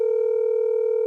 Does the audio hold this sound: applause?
no